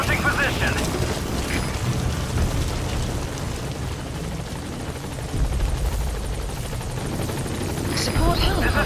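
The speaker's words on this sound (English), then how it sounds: "Support helicopter has I arrived. have arrived at marker." In Metal Gear Solid V, a support helicopter arrives with a loud, continuous rotor roar and rumbling engine, while a voice talks over it.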